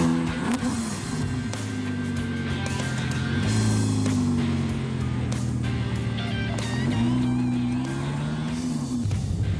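An Audi R8 with a 5.2-litre V10 engine drives, its loud engine rising and falling through gear changes and revs. The sound is close and continuous, with no talk over it.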